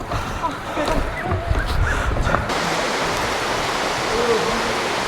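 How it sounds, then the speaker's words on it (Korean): Yongyeon Falls at Juwangsan in autumn, running low after a dry spell: a steady broadband rush of falling water, close and continuous, with some rustle and footsteps in the first half. "여기가 용연폭포입니다"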